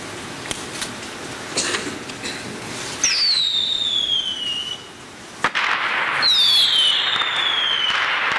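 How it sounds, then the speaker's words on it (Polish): Salute fireworks fired from a castle hill: sharp pops and crackles, then two rising-to-falling whistling shells each followed by a burst, fairly loud and outdoors with a crowd murmur beneath. "Strzelają z góry zamkowej. Ichne saluty."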